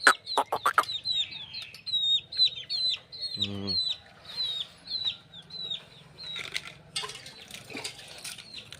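Chickens cluck and chirp in bursts while being fed on a farm, with wing flaps and a brief low thump, fairly close amid quiet background and occasional voices.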